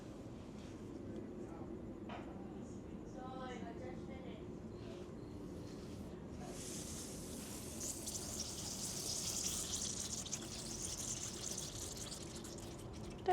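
Irrigation water sprays over raised garden beds built on concrete, a quiet, faint background at first that swells into a soft, steady hiss of running water halfway through and keeps going.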